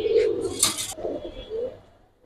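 Giribaz pigeons coo softly at a pigeon seller's, a few low, rounded coos close by with a brief scuffle of wings or movement in the background.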